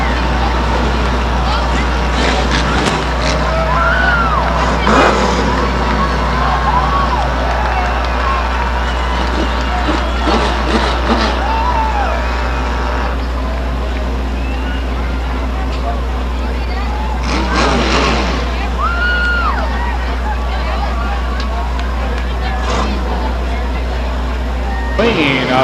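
Stock cars at Stockton 99 Speedway roar away at the start of a race: a steady, loud engine drone under crowd noise, with a race announcer talking over it throughout.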